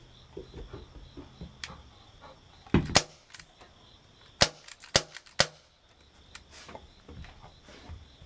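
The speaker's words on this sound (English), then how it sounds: "This is a test fire for the HK USP." An HK USP CO2 airsoft pistol is test fired in a quiet setting, giving several sharp, close cracks: a quick double shot, then three more spaced about half a second apart.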